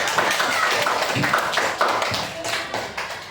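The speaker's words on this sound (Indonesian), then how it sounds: "Tepuk tangan buat kita semua dulu." Grade 4 schoolchildren clap together in a classroom, a loud, dense burst of many small hands with uneven rhythm that carries on throughout.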